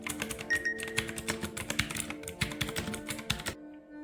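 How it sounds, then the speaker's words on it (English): Fast, crisp clicking keystrokes from an Intex Caliber Pro mechanical keyboard with blue switches, a quick irregular run of sharp clacks at close range that stops abruptly near the end. "It has blue switches that sounds very good."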